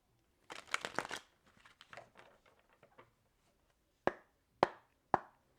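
Tarot cards riffle and shuffle in a quick flurry of soft papery flutters, then three sharp, separate slaps of cards set down on a surface.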